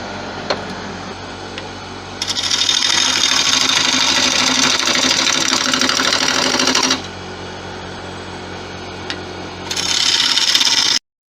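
A woodturning gouge gets a fresh edge on a bench grinder, the motor idling with a low hum before a loud sustained grinding hiss for about five seconds, then quieter running and a second grinding pass at the end.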